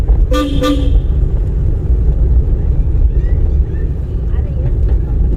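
Two quick, loud toots of a car horn ring out at the start over a heavy engine rumble during a driving lesson, with a voice talking through the rest.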